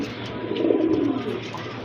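Large Rajgolla pigeons coo in a low, steady murmur that swells slightly in the middle and runs without a break, close by.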